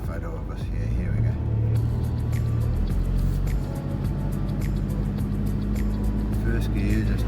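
On a K'gari (Fraser Island) west-side beach, a car rolls in first gear through ankle-deep water, its low engine rumble steady and close while people talk over it.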